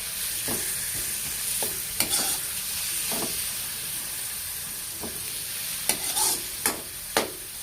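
Menudo ingredients, store-bought sahog, sauté in a hot pan with a steady sizzle and hiss. Sharp clanks of a spatula against the pan come at irregular intervals as the mix is stirred.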